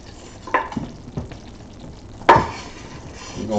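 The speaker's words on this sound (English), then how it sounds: "We're going to brown that sausage down." Sausage browning in a small pan for a chicken, sausage and shrimp gumbo: a low sizzle runs under scraping stirs, with a couple of sharp utensil knocks against the pan.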